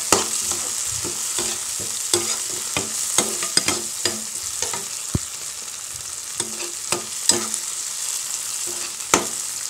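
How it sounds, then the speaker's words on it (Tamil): Okra (lady's finger) stir-fried in oil with a ladle: a steady sizzle broken by frequent sharp scrapes and clacks of metal against the pan in an irregular stirring rhythm. "வெண்டைக்காய் போட்டு ஒரு கரண்டி நல்லா பரட்டிட்டோம்"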